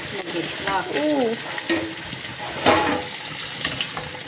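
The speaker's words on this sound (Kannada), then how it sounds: "ಇದು ಒಗ್ಗರಣೆ ಆಗ್ತಿದೆ." Chopped onion tempering (oggarane) for a hotel-style chicken sukka sizzles and crackles steadily in a hot pan, close and loud, with a faint stir, watery splash and brief clatter over the continuous fry; no one speaks.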